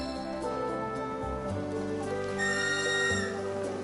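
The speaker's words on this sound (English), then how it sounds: "just give your whistle a blow." A whistle blown in the video game Final Fantasy VII Rebirth, a short tonal call with a sustained pitched note over game music, with no voices.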